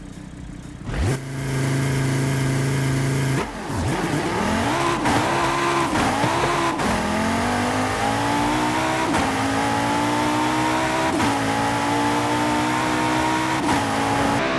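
Racing car in Forza Horizon 5 launching off the line with launch control: a loud held rev, then a roaring surge through quick gear changes with brief tire squeal, climbing steadily and close, no talk.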